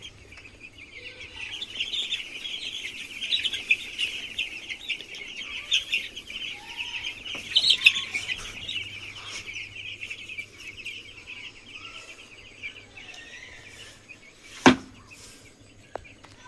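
Chickens on a small hobby farm cluck and chirp softly and continuously while feeding, close by, with one sharp knock near the end.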